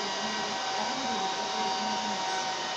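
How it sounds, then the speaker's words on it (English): HP ProLiant DL380 G9 server fans whirring during power-on self test, a steady loud rushing hum with a faint tonal whine, continuous and unbroken throughout. "This sound is power on, self test, fan, cooling and other activities of the server."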